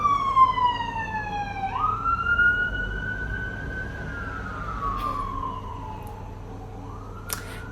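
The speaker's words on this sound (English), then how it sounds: "There was an ambulance or a police car or something passing." An emergency siren from an ambulance or police car on a UK street sweeps up and down as it passes at moderate distance, slowly fading, with no talking.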